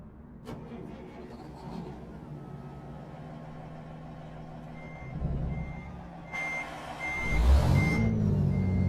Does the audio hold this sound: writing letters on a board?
no